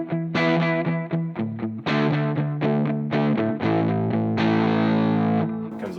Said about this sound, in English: And then if we put on some distortion,